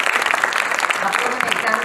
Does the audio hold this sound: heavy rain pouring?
no